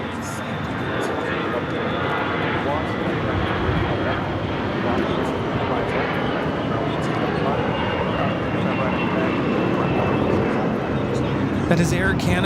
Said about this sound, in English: That is Air Canada 792 taking off to Toronto on the A321.